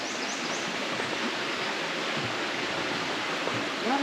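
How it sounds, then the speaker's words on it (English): Water cascading over rocks in Red Bay, Alabama, a dense, continuous rushing roar that stays steady and close throughout, with faint bird chirps and a brief murmur near the end. "There's something about that sound of the water cascading over the rocks"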